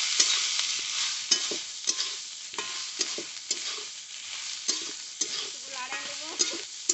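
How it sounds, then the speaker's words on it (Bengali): Leafy greens fry in a hot wok with garlic and dried chilli, a dense continuous sizzle close up with repeated clattering stirs of a spatula against the metal. "ভাজা হয়ে গেছে, এখন শাকটা দিয়ে দিচ্ছি।"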